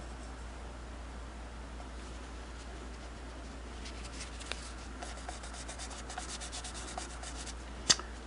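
Cleaner wax is rubbed off the finish of a Singer 221 Featherweight sewing machine, giving a faint, steady, close-up scrubbing with a small sharp knock near the end.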